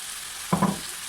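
Soy sauce and vinegar hit a hot frying pan with a short burst of sizzling, two quick splashes of hiss rising and fading within a second, no voices.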